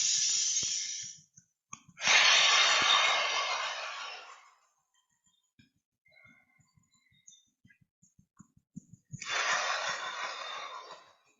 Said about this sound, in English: Same breathing in the nose,